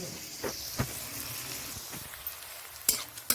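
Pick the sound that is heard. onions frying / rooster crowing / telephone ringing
onions frying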